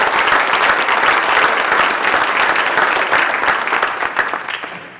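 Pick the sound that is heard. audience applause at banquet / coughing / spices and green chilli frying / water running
audience applause at banquet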